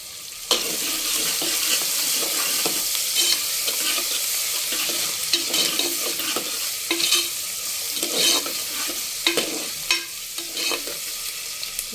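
Onions fry in a pan with a pinch of turmeric, cooking until brown, giving a loud steady hiss of sizzling oil with frequent scraping stirs throughout and no speech.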